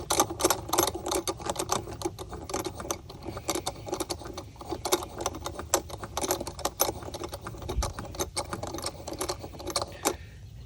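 A thread cleaner tool is run onto stripped threads on a filter clamp, giving a close, steady run of metallic clicks, scrapes and rattles with no talk over it.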